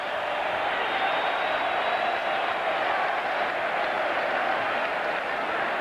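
A packed crowd at a 1991–92 Kentucky vs. Tennessee college basketball game reacts as Mashburn goes out, a loud, sustained roar of many voices that stays steady for several seconds.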